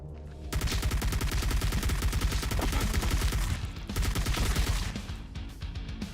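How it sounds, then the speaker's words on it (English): Rapid gunfire in the shooter game Bloodhound, dense, loud repeated shots with constant layered game sound over about six seconds, no talking. "The the shooting speed of that bloody pistol is ridiculously slow."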